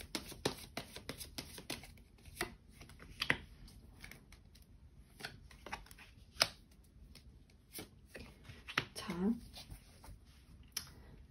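Tarot cards are shuffled and drawn by hand at close range, with soft riffles, flicks and slaps of card stock under a woman's speech.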